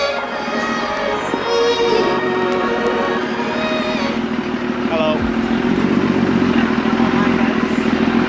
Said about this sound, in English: It is really steep, but it's fine with the exhaust brake. Gone down to 2nd gear.